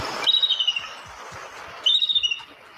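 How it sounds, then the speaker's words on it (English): Two bursts of shrill, rapid chirping calls, most likely a red-tailed hawk rather than a bald eagle, each a quick run of sharp repeated notes, close and clear against a quiet outdoor background. "This is the sound a bald eagle makes."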